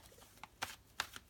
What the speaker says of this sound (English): I have already shuffled the cards